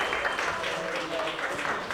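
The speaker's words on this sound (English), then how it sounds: "Give yourselves a round of applause for being here" An audience at a Two Spirit artist showcase claps in a brief, steady burst of applause from many hands.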